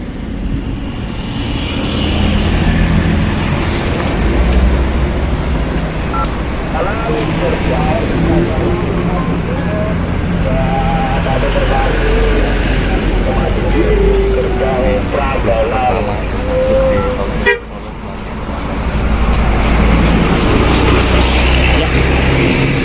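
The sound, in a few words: bus passing on the Solo-Jogja toll road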